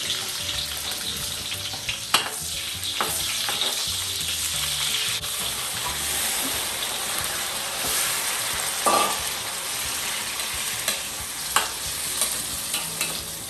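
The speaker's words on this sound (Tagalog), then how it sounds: "magigisa na tayo ng bawang. Sabayan na yung sibuyas" Garlic and onions sautéing in a pan for chicken afritada, a steady close sizzle with occasional scraping and stirring clicks of a utensil against the pan.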